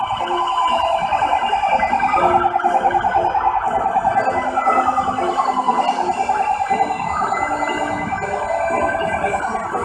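Fire brigade vehicles roll past in a civic-military parade in São Paulo, sirens wailing in overlapping rising and falling tones, loud and near over engine rumble.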